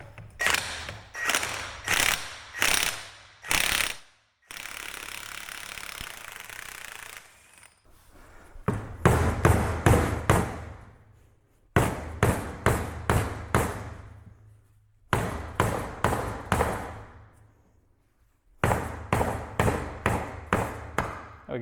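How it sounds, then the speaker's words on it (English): Impact wrench on a 32 mm nut on the front differential of a Lamborghini Gallardo Superleggera, firing repeated loud, rapid hammering bursts separated by short pauses and quieter stretches. "hit it with an impact and get this nut off"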